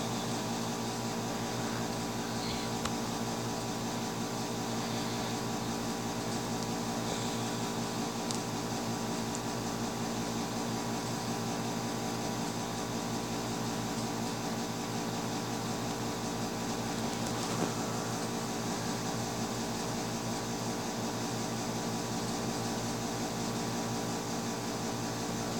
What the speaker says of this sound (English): I'm very sorry if there's only a little bit of sound, like an air conditioner running